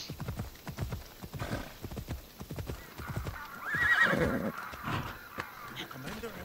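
Rhythmic clip-clop of horse hooves with a whinny partway through, from the game Assassin's Creed Odyssey, with talking over parts of it.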